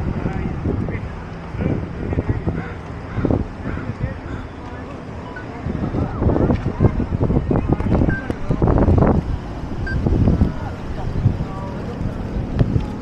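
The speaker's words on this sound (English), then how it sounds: "Just windy." Gusty wind buffets the microphone on a Canadian beach, rising and falling in strong rumbling blasts, with some voices in the background.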